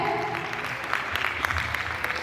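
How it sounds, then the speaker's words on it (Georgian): Audience applause at a children's theatre studio concert, a steady wash of clapping with sharper individual claps and some voices. "გთხოვთ მამიკოს აპლოდისმენტები"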